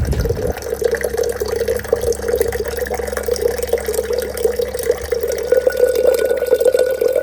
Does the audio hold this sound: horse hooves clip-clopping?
no